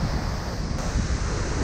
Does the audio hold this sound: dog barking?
no